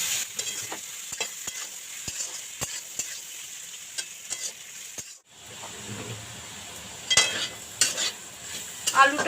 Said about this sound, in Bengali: এবার আমি আলুটাকে ভালো মতো ভাজবো।